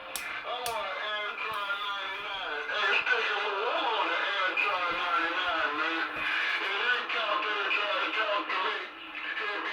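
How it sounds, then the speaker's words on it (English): CB radio receiver audio on a Midland radio with a voice coming through, band-limited and slightly noisy, continuous for several seconds. "I'm gonna let you hear the receiver now."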